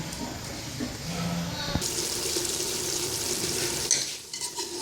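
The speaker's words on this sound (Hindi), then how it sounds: "ये मैंने थोड़ा सा ऑयल डाल के प्याज रखे हैं ब्राउन करने के लिए" Onions fry in a little oil in a pot, giving a steady close sizzle with scraping and stirring noises over a constant hiss.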